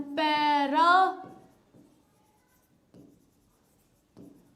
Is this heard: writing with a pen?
yes